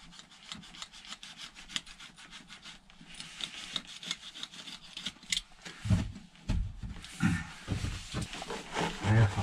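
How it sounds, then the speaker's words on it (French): Biofib insulation is cut by hand while fitting out a van, with a run of rasping, sawing strokes in an uneven rhythm that grows louder and coarser toward the end. The cutting sounds close and stands alone with no talk. "Là, je vais couper ce petit angle."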